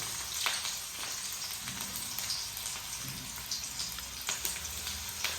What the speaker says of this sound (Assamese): পিঁয়াজ আৰু বিলাহী দুয়োটা বোলে কিবা ফ্ৰাই কৰি ল'ব।